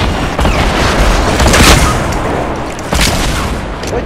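Loud, continuous gunfire from a Fortnite match, with repeated sharp shots and booming blasts over dense game noise, no clear pauses.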